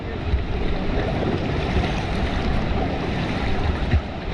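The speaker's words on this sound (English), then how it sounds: "You can see this is a big rapid." A big river rapid on the New River in West Virginia roars around a whitewater raft, a dense, loud, unbroken rush of churning water with some wind buffeting the microphone.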